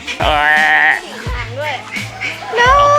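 A goat at a Nakhon Nayok sheep farm lets out loud, wavering bleats in close succession, with a second shorter cry near the end, while people talk nearby.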